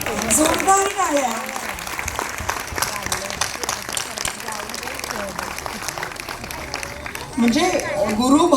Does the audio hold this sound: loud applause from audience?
yes